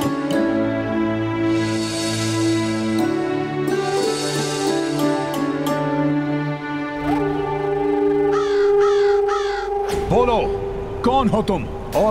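Crows caw in a few harsh bursts toward the end of a devotional mythological drama scene about offering food to crows before ancestral rites, heard over a bed of sustained music and voices.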